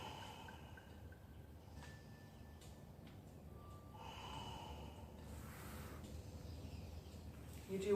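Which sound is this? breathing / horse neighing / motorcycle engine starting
breathing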